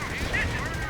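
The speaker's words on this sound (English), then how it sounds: "we see a strafing run going off, killing numerous of my men" Rapid gunfire from a strafing aircraft in a WWII strategy video game, a brief dense burst of shots with a whining tone layered over it, heard for about a second.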